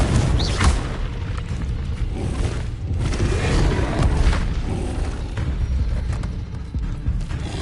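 Confringo, a fiery explosion spell, booms repeatedly during Hogwarts Legacy combat, its blasts layered into a dense, steady wash of loud game battle noise.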